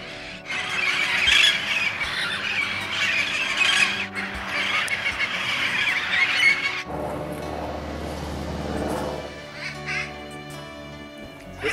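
Amazon parrots in a large outdoor flight aviary squawk and squeal in a dense, raucous chorus, loud and near, easing into scattered calls and lower background noise toward the end.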